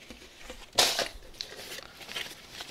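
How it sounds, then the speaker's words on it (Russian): Wrapping paper crinkles and tears in one sharp burst, followed by softer, scattered rustles close by as the gift is unwrapped. "Шелест разворачиваемой бумаги."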